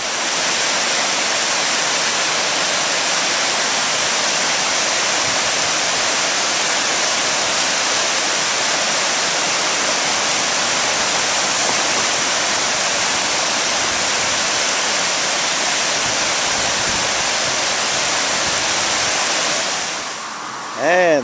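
Rocky River running high and fast after hard rain, a loud, steady broadband rush of floodwater close by that holds unbroken for about twenty seconds, then cuts off abruptly.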